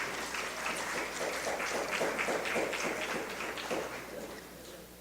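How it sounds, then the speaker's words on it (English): Steady audience applause for both teams at a Caribbean artificial intelligence forum, a dense continuous patter of clapping holding at an even level for the full length. "give a round of applause to both teams"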